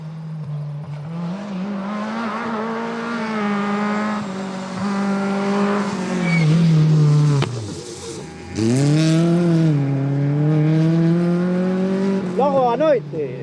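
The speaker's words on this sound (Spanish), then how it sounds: "Vienen 3 coches, nos quedan." Rally cars on a stage of the Rallye de Pontevedra in Sanxenxo, engines droning and rising in pitch as they pass close by, with people talking over the engine noise.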